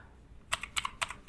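Fingers tap out a password on a computer keyboard: a quick run of about six crisp, close keystrokes after a short quiet pause, with no talking.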